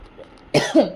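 A single sharp cough from a person with a cold, close and fairly loud, followed by a short throaty follow-through, after a near-silent pause.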